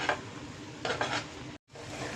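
A spoon stirs turmeric and chilli powder into a frying gravy for bitter gourd masala, with soft scraping against the pan over a low sizzle and a short break near the end.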